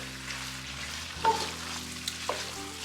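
Masala being stirred into pork curry frying in a pan, a steady close sizzle with a low hum beneath and a few soft scrapes and knocks of the spoon.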